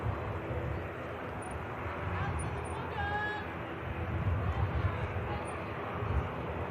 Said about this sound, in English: Just hear the Dash 8 of Luxair as well.